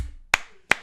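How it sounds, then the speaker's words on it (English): Two sharp hand claps ring out in a room, spaced a little under half a second apart, each short and crisp against a quiet background. "We clap for everything in here."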